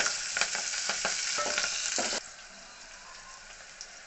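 Steady hissing sizzle of onions, green chilies and curry leaves frying in hot oil, with scrapes of stirring, then the sizzle drops to a quieter simmer partway through.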